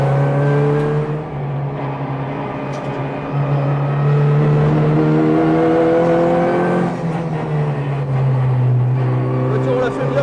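A race car accelerates hard on a track, its engine holding a loud, steady harmonic drone that climbs and dips with the throttle across several seconds, heard up close.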